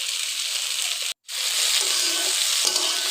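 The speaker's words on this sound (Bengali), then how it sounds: "কড়াইতে তারপরে একটু সরিষার তেল দিয়ে বটবটিগুলো ভেজে নেব।" Yardlong beans fry in mustard oil in a wok with a loud, steady sizzle and occasional stirring scrapes, broken by a brief moment of silence partway through.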